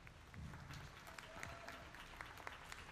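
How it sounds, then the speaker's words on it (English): At a youth beef cattle market show, exhibitors get a short round of applause from a crowd, heard as faint, distant, scattered clapping in a quiet, reverberant show ring. "Let's give the exhibitors a round of applause."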